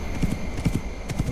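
Horse hooves clip-clop in the video game YLands, a few quick, close hollow thuds in uneven pairs over a soft background hum.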